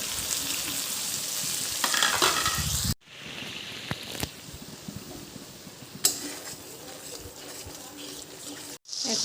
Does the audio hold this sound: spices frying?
yes